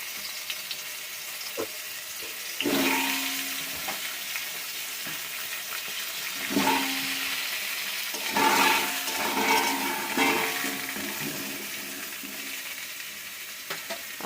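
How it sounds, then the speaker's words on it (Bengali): Potatoes frying in a little oil in a wok, a steady sizzle with louder bursts of spitting and stirring, close by and alone. "এরপর তেল, সামান্য তেল কড়াই আছে, এর মধ্যে আমি আলুগুলো ভেজে দেবো"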